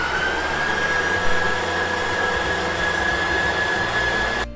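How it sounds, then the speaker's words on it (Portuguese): Electric stand mixer running steadily while beating chocolate cake batter as egg yolks are added, a continuous whirring motor drone with a sustained whine, alone and close, cutting off at the end. "com a batedeira ligada eu vou intercalar leite e farinha"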